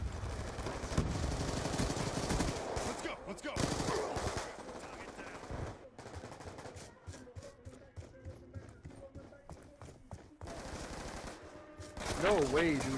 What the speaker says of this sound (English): I'm shooting with the MTAR, bro.